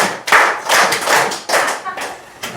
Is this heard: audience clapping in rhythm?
yes